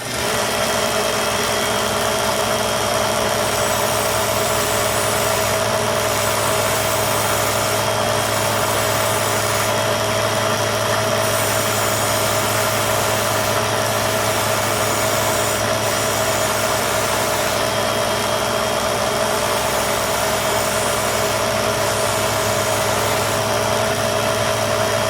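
A Harbor Freight 1x30 belt sander runs with a 1 micron felt belt, giving a steady, continuous motor hum and whir at moderate loudness with no pauses.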